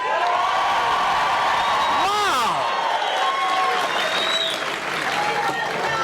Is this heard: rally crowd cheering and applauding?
yes